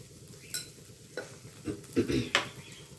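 Curry leaves and cumin seeds dropped into hot oil while cooking a kovakkai (ivy gourd) 65 dish, a soft sizzle with several quick clinks and stirring scrapes of a utensil against the pan, fairly faint.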